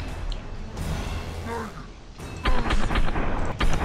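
Sniper gunfire rings out in the shooter game F.E.A.R. 3: a run of sharp, loud cracking shots in the second half, with a player's voice talking beside it.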